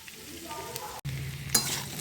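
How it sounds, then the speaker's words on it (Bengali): Peas and onion greens stir-fried in a wok, a soft steady sizzle with a few scraping stirs of a spatula and a brief pause before the frying resumes. "দিয়ে এরপর আরেকটু নাড়াচাড়া করে নিচ্ছি, ভালো করে ভেজে নিয়ে তারপরে মশলা দেবো।"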